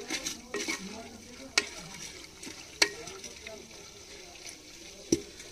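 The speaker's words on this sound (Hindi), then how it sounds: "अब इसको थोड़ा फ्राई कर थोड़ा चला लेंगे, ये सारा चीज़ एक साथ मिक्स हो जाए।" A masala mixture frying quietly in a pot while being stirred, with a soft steady sizzle and a few sharp clinks of a spoon against the metal.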